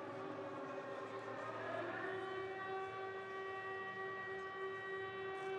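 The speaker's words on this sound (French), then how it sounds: "Je pense que c'est peut-être aussi à cause de ça qu'on entend actuellement les sirènes d'avertissement." Warning sirens sounding during a fight night event at the Arène des Sacrés, a steady, fairly faint layered wail of sustained tones with one pitch rising slightly, continuing throughout over a low background murmur.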